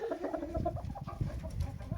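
A two-year-old hen clucks close by in a short run of uneven, throaty clucks over faint background noise.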